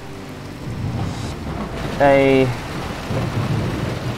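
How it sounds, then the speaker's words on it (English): Steady rain hisses and patters throughout a VR session of the racing game Assetto Corsa Competizione, with low rumbling underneath and a short tonal burst partway through. "the rain feels nice and wet in VR"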